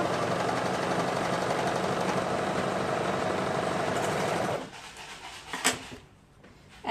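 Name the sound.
sewing machine sewing sweater shoulder seams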